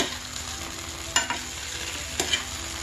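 Stuffed brinjal masala frying in a pan gives a steady low sizzle, broken twice by short scraping stirs of a spatula, close and without voices.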